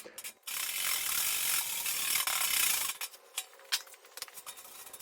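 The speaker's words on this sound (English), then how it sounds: "I used the chisel and wire brush to clean off all the slags" A chisel and wire brush scrub slag off fresh welds on a steel frame for an electric reverse trike, giving a close, loud, continuous scratching rasp for about two and a half seconds, then a few fainter scrapes and knocks.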